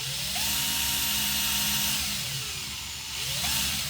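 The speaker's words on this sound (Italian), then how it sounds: "Ho inserito una punta Bosch da 3 mm. Vediamo se con questa notiamo movimenti." A Parkside PBSA 12 C2 12V cordless drill fitted with a 3 mm Bosch bit runs for a few seconds. Its close, steady motor whine rises and falls in pitch as the speed changes, with no talking.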